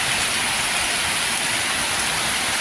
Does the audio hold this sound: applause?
no